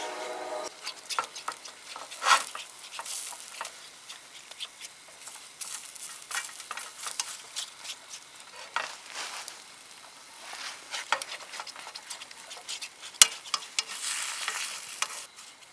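Eggs frying on a small camping stove during a rainy outdoor camp, a soft continuous crackle and patter with scattered sharper pops and a few louder clicks near the end, no talking.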